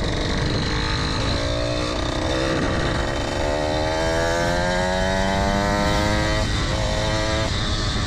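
A motorized bicycle engine buzzes continuously while riding, loud and close, its whiny pitch rising and falling as it revs and accelerates.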